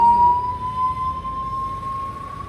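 An ambulance siren sounds on a road as the vehicle passes: a sustained high electronic tone sliding slowly upward, loud and close over low traffic rumble, with no talking.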